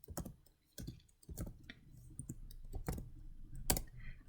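Keys on a computer keyboard clatter in irregular sharp clicks, with several louder strikes for the return and tab keys, close and crisp over quiet room tone.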